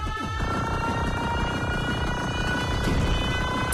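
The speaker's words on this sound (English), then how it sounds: "There's a siren that starts, and if you outlast it, you get a little trophy." A wailing warning siren sounds in the arcade plane shooter game Luftrausers, holding steady and loud over dense engine drone, gunfire and explosion noise, with no voices.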